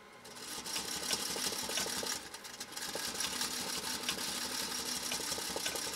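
A 1956 Singer Featherweight 221 sewing machine strains through tough material. Its rapid, steady needle clatter runs close and continuous, with one brief dip partway through.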